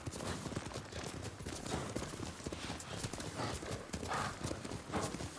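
Horse hooves clip-clop in a fast, steady rhythm as a rider gallops in Ghost of Tsushima, dense and continuous with faint game ambience behind.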